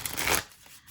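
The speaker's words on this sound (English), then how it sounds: "I love the way this deck shuffles." A quick riffle of a deck of cards being shuffled, a short crisp flutter close up that fades out.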